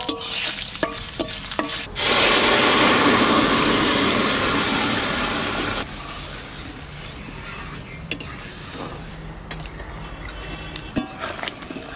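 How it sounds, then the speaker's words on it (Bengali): Spices hit hot mustard oil as the tempering for dal goes in, giving a loud, steady sizzle that lasts several seconds and then drops to softer crackling and scattered clinks of a utensil in the pan. "ডাল ফোড়ন দেবো, সর্ষের তেল দিয়ে দেবো"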